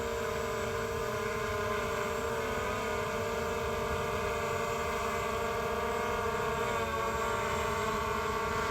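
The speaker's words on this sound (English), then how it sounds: "We'll have a look at his airplane right now" A radio-controlled model airplane flies overhead, its motor a constant, even drone that holds steady in pitch and loudness throughout, with no speech.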